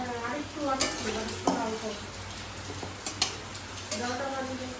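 Palm fruit fritters (taler bora) fry in a pan, a close sizzle broken by clinks and stirring scrapes, while a voice talks over parts of it.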